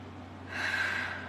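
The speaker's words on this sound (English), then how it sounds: "Nice deep belly breaths." A single deep belly breath drawn in slowly through the nose, a soft airy inhale that swells midway and fades, close and quiet with no talking.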